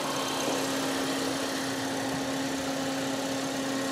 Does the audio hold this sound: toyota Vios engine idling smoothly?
yes